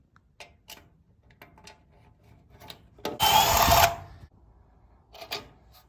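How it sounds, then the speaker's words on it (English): A power drill whirs loudly for about a second, grinding through a metal vehicle frame during a battery relocation, amid scattered clicks and clanks of tools. "then drill through the other hole that way"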